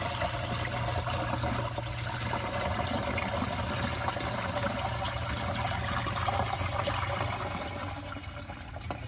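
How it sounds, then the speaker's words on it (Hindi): Water poured into a pesticide mixture in a farm sprayer tank makes a steady, continuous splashing trickle that runs throughout at moderate level. "तो ये पानी डाल रहे हैं अब"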